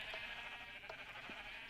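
Faint sheep bleating in Minecraft, a few short bleats over a steady background hum.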